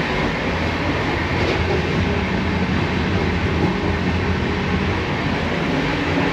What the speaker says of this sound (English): That's literally the train tracks down there.